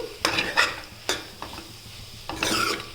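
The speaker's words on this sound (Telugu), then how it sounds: "ఇలా మిక్స్ చేయండి" Egg rice masala being stirred in a pan, a few scraping and clattering strokes of a spoon against metal over a soft sizzle, close up, with short quiet gaps between strokes and no voices.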